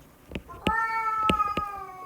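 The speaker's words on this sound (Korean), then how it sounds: "제가 고양이를 키우는데 방금 아빠라고 했습니다" A pet cat meows indoors: a couple of short calls, then two long, drawn-out, wavering meows close to the listener, with faint clicks and room noise around them.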